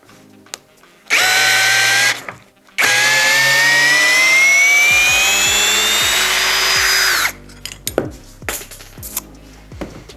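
Brushless cordless WORCRAFT CHD-S20LiBAB drill driver backs out a screw from a workpiece with loud close motor whines, a short burst, then a long run that slows down, followed by clicks and rattles.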